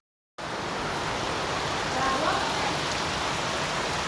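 Heavy rain pours down in Guhagar on the coast, a dense, even roar of falling water that starts abruptly and holds loud and steady with no voices.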